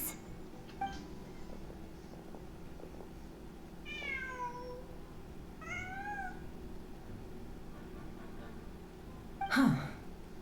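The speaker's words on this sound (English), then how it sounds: "Huh. Just a cat." A cat in Genshin Impact lets out a few short meows, a small rising call followed by a couple more, over soft ambient music, ending with a louder breathy puff.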